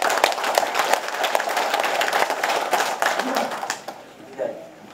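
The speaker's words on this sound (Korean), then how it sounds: "앉으시려고 박수 치시는데" A seated crowd at a Gongju city mayor's New Year township visit in Jeongan-myeon claps steadily, dense applause that fades out toward the end.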